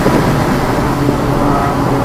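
A Seat Leon FR accelerates at full throttle on a race track, a loud continuous roar blended with rushing wind noise that holds steady throughout, with no talk.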